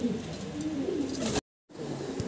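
Many pigeons at a pigeon farm coo in low, rolling, overlapping calls close by, steady apart from a short gap of silence partway through.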